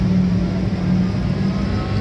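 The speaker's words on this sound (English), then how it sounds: "Here comes the BMW, number 24 car." A BMW race car, number 24, passes during the Rolex 24 at Daytona 2025, heard as a steady, fairly loud engine whir and drone that holds without break over two seconds, with no talk.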